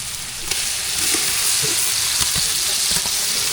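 Onions with ginger garlic paste sautéing in a pan, a loud continuous sizzle with scattered spoon scrapes and clicks as the mixture is stirred, close up.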